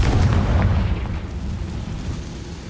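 Fiery explosion from the Confringo spell in Hogwarts Legacy, a loud rumbling blast with deep boom that slowly fades over a few seconds, with no speech.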